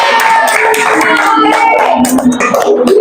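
A class of students applauds with steady, loud, close hand clapping, a dense rapid patter lasting the whole stretch.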